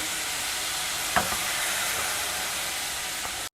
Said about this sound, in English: I will just heat a tablespoon of ghee. Add this drained whole moong.